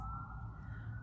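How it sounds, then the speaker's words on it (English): A police or emergency vehicle siren passes outside, a steady held tone throughout the brief second, fairly faint and distant, with a low rumble beneath and no speech. "Sorry for the sirens."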